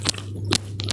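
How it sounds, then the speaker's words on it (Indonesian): Crisp bites and crunchy chewing of an onigiri with chili anchovies, three sharp crunches spaced about half a second apart, very close and intimate with no talking. "sekarang aku mau makan onigirinya"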